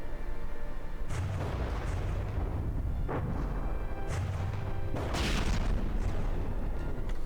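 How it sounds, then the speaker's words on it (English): Bombs explode in the naval combat game From the Depths: repeated deep, booming blasts land every second or two over a constant rumbling background, fairly close, with no speech. "More bombs popping in here."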